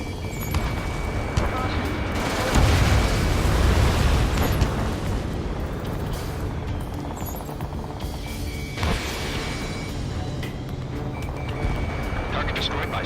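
An anti-aircraft gun blows up in Ace Combat 7, a heavy rumbling blast swelling early and fading under radio chatter, with another burst later amid continuous noisy battle sound.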